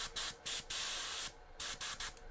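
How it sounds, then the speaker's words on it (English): An airbrush sprays thinner in a series of short hissing bursts, about six spurts of varying length with brief pauses between, close and fairly quiet. "the first thing I'm going to do is spray the thinner out"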